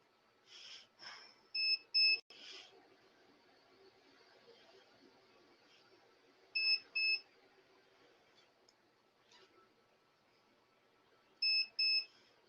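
A borate fusion instrument emits short high electronic beeps in pairs, repeating at intervals of several seconds, faint against a quiet background hum during its cooling cycle.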